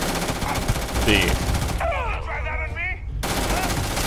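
Rapid automatic gunfire bursts from the video game Starfield, loud and continuous, with a voice speaking briefly over the shooting.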